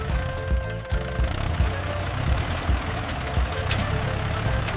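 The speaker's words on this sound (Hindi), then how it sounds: "प्यारे बच्चों देखो वीएसटी ट्रैक्टर।" A VST tractor engine running steadily, with a low, continuous rumbling drone and a faint mechanical hum close by and loud, alone without talk.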